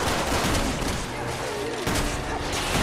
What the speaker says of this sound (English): we're shooting on Rael